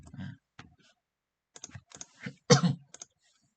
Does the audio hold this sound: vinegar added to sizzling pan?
no